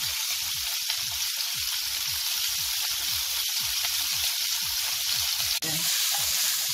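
A beef fillet sizzles loudly and steadily in a frying pan, a dense continuous crackle and hiss up close, with one sharp clack partway through.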